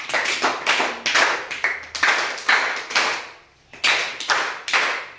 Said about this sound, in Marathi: सगळ्यांसाठी टाळ्या घ्या तुम्ही. 3च टाळ्या.